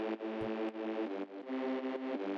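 Reese bass synth from a Phase Plant preset in an Ableton beat, two layers an octave apart, a thick sustained detuned tone with rhythmic re-attacks, loud and alone.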